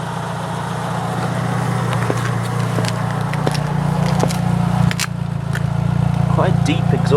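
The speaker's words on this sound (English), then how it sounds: "Quite a deep exhaust note," A deep, steady exhaust drone from an engine-swapped Fiat Cinquecento with its standard exhaust hums throughout, with scattered clicks and crackles over the top.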